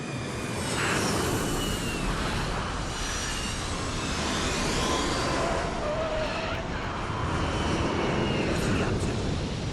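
A fixed-wing aircraft on final approach to land at Biggin Hill, its engine drone steady and loud for the whole stretch, with muffled speech faintly beneath.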